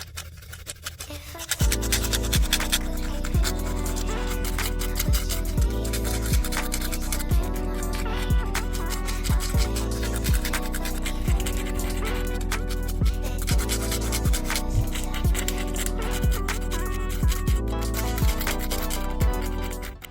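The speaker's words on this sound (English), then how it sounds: "go in with my 80 by 80 grit hand file to file the tips of the nail" Continuous scratchy rasping of an 80/80 grit hand file working steadily back and forth on the tips of nails, with rhythmic music playing underneath throughout.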